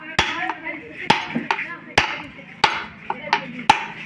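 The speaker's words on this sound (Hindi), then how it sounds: "तो चलिए अब इससे हम थोड़ा थोड़ा इस तरीके से ठोक देंगे" A hammer taps a bearing into place with six or seven sharp, evenly spaced metallic strikes, each with a brief ringing tail, close and loud with no talk.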